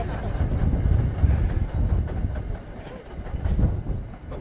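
A train rumbles past a city waterfront at Perth Amboy, a loud, steady low roar with faint clattering that swells and eases over several seconds, with no one talking.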